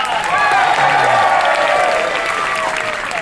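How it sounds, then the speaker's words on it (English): An audience claps and cheers for a volunteer on stage at a comedy show at City Space Boston, a dense, steady burst of applause lasting throughout, with a voice talking over it. "Everyone clap for Gaston!"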